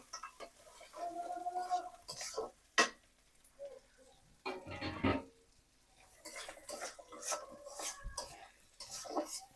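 Spice paste frying and being stirred in a pan for a home-cooked prawn and fish curry, heard as quiet, irregular spatula scrapes and metallic clinks with short pauses between strokes.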